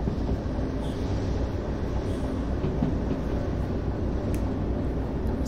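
A train runs in the video game Derail Valley, a steady continuous rumble and rolling clatter with faint metallic creaks, even in loudness throughout.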